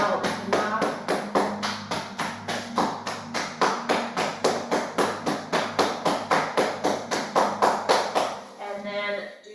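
Rhythmic knocking on the body during a self-massage routine, about thirty even, soft thumps at a steady pace, close and fairly loud, ending in a brief pause with a short movement sound.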